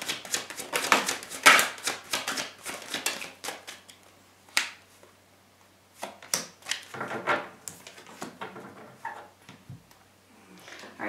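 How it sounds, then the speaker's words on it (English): Tarot cards handled and drawn from a deck, producing a run of crisp snaps and riffling shuffles early on, followed by scattered light taps and slides of cards laid down. "Let's just get a couple of tarot cards to see if we get anything more on this"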